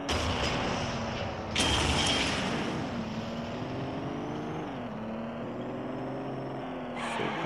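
Tank rumbling along in the video game Gangstar Vegas, a steady loud engine drone with a shifting tone, plus a couple of sharp bursts near the start and end.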